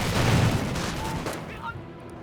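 Grenades exploding in the Company of Heroes World War II strategy game: a loud burst of overlapping blasts and gunfire up front, fading into lighter battle noise, with a voice talking over it.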